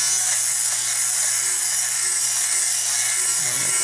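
Philips GC026/00 fabric shaver running over a sweater, a loud, steady high-pitched motor whir with no pauses, close up.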